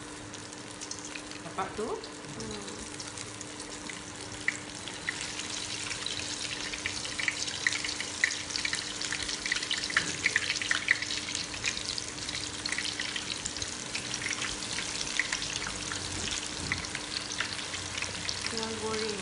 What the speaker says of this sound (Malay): Tengah goreng.